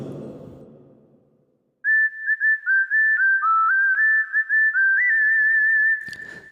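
A whistle voice on a keyboard plays a sustained, gliding song melody in a single high line after a short low murmur, ending with a brief clatter.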